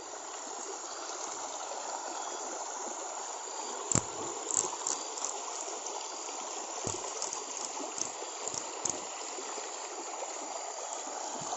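A rainforest stream flowing at night in Borneo, a continuous close rushing and gurgling of water with a few brief knocks and footstep-like thumps over it.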